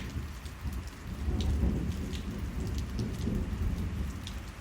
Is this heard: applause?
no